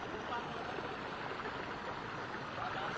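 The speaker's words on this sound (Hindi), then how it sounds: "यहाँ ये किस तरह से पानी बह रहा है ये देख लीजिए" Yamuna floodwater in Delhi rushes beneath a bridge in a dense, steady roar of flowing water that stays constant and fairly loud throughout.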